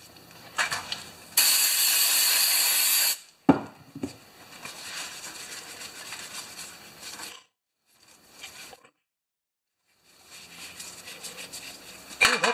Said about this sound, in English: I do spend money on carb spray.